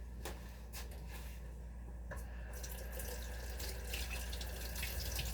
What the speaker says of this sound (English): Let me wash this off so that I can actually add some of this to it.